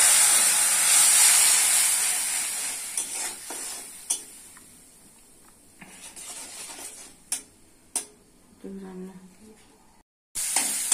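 Water poured into frying cumin powder and spices sends up a loud, steamy hiss in the pan. It fades over several seconds, then stirring scrapes and clanks sound close by.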